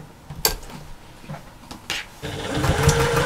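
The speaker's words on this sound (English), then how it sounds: "we're going to just sort of do a basting stitch right across the top to join all those two layers together" A sewing machine runs a long basting stitch straight across the top of a slouchy bag to join two layers, a few short clunks and handling noises followed by a close, steady mechanical whir.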